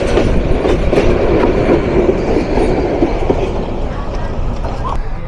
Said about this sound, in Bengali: আন্তনগর চিত্রা এক্সপ্রেস প্রবেশ করলো আজকে যাত্রাপথে তার ডেস্টিনেশন রাজধানী ঢাকা স্টেশনে